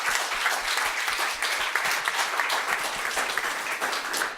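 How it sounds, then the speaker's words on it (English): Dense, sustained applause from a conference audience, many hands clapping at once in a thick, even roar that holds steady throughout without a break. "the applause gets longer"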